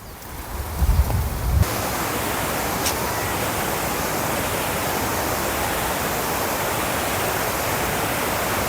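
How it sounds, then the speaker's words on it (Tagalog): Strong wind roars steadily at Agpay Eco Park in San Nicolas, Pangasinan, a broad rushing noise with heavy buffeting against the microphone early on before settling into a constant loud blast. "Diba, ang lakas na hangin."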